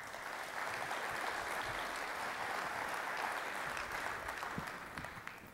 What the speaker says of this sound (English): let's give a round of applause to our panelists here.